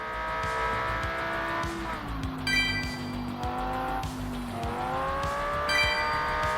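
Racing cars in Estate Agent Simulator roar past with loud, steady engine drones that rise and fall in pitch as they shift, joined by tire squeals, all continuous and close with no talk.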